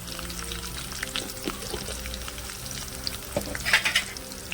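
Peanuts, cumin and curry leaves fry in hot oil for tamarind pulihora, giving a soft, steady sizzle with a few light stirring clicks near the end.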